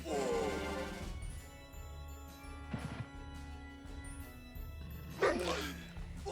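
A dog in a turn-based exploration adventure game barks and yelps a few times in short bursts amid game sound effects and music, with a sharp crash-like burst near the end.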